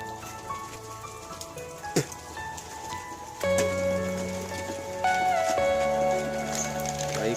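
Steady morning rain patters and drips on a surface at a house, with occasional sharper knocks and hum in the background.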